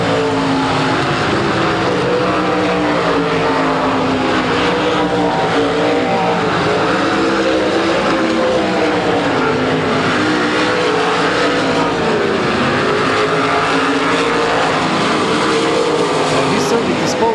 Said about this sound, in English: He's approaching cars now to start lapping already.